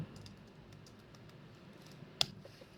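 Computer keyboard typing, very faint and sparse, with a single sharper click near the end in a quiet room.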